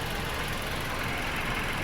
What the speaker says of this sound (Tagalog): Ayan yung makina niya na bagong gawa ko.